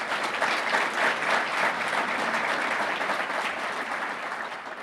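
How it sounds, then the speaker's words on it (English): An audience at the 2019 Roseville, California State of the City Address breaks into steady, sustained applause for local sponsors, a dense roar of clapping hands that fills the room and tapers slightly at the end. "Let's give them a round of applause."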